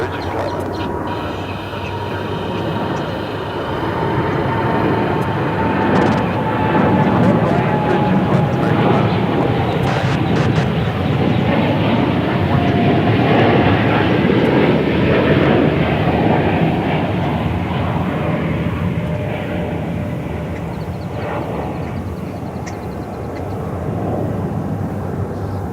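An airliner passing at Dallas/Fort Worth (DFW) Airport: a loud, broad jet roar that builds, holds for about twenty seconds, then slowly fades, with faint sounds underneath.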